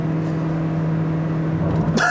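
A 2018 Toyota Prius C with its 99-horsepower engine held at full throttle, giving a steady, loud, droning hum throughout with a brief brighter burst near the end.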